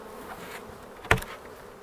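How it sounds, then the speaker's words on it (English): Honeybees at an open hive during a spring hive inspection give a steady, moderate buzz throughout, broken once by a single sharp tap or knock near the middle. "Tap the bees out,"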